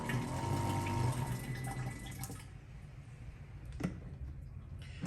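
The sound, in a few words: backpack sprayer pump running with water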